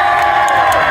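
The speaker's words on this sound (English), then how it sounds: "Clapping, screaming, cheering." Loud, brief crowd cheering and screaming at a Pier 39 street circus show, a dense burst of many voices shouting together.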